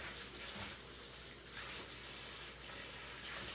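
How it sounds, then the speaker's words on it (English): Water runs steadily over cut cabbage in a bowl, a close, even gushing stream from start to finish. "I'm going to add some water in here"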